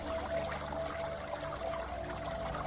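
Water bubbling and churning on a muddy surface in a dramatized hellish underworld scene, a continuous dense gurgling wash at low volume with no voices.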